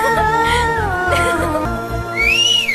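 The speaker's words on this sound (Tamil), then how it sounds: "எவன்டா விசில் அடிச்சது?" Political party supporters celebrate election results at their Panaiyur office with loud whistling, including a sharp rising whistle near the end, over rhythmic thumping music.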